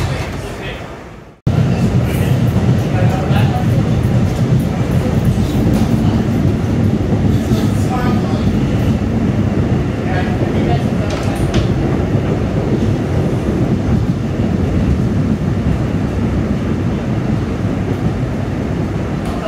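Staten Island Railway R211S subway train riding along the line, a loud, steady rumble with rail clatter and wind-like rush that starts abruptly after a brief gap and continues unbroken.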